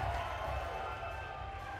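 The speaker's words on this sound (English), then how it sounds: "And the crowd showing their appreciation" British supporters at a men's curling match cheer and applaud in a dense, steady crowd roar that fills the arena throughout.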